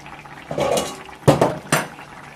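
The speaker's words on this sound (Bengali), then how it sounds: "এবার ঢাকনাটা খুলে নিলাম" A metal lid is lifted off a cooking pot of Bengali shukto with kalmi greens fritters, giving a soft rattle followed by two sharp clanks against the pot rim, close and clear.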